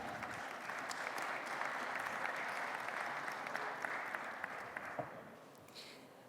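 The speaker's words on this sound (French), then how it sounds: "vous pouvez l'applaudir également." An audience at a French round-table event applauds steadily, a moderately loud, even wash of clapping lasting several seconds before tapering off.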